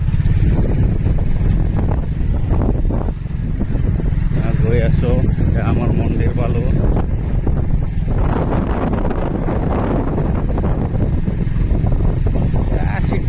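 A motorcycle engine drones continuously after starting, heard up close under heavy wind buffeting on the microphone, with faint voices now and then.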